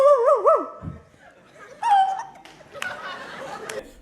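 A man imitates a dog with his voice, giving a few quick barking yelps, followed by audience laughter and chuckles in a comedy roast setting.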